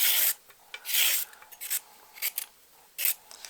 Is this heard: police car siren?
no